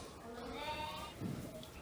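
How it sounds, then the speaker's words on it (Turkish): An 18-day-old female Assaf lamb, bottle-fed on a farm, bleats in a drawn-out wavering call close by, with a short lower sound near the end and some background noise. "bu dişi kuzu yaklaşık 18 günlük bir kuzu ve şu anda yaklaşık 12 kilo civarında"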